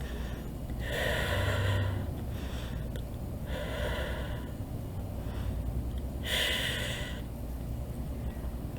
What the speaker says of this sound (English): So just take 3 deep breaths.